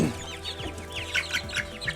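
Chicks clucking and peeping in a brooder, quick repeated chirps and soft clucks close by, fairly faint, with no voices.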